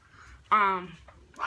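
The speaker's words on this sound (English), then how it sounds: "Excuse my dog freaking out in the background." A dog in the background of a room lets out one brief, loud whining yelp with a high, tonal edge, followed by softer restless noises.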